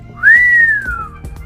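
An old man whistles alone, one clear, loud note that rises, holds steady, then slides down and fades, with faint soft background noise around it.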